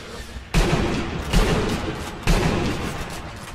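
Three sharp gunshot blasts from Sniper Elite V2 gameplay at about 0.5, 1.4 and 2.3 seconds, each with a broadband crack and a long noisy decay, over a dense background of rumbling battle noise.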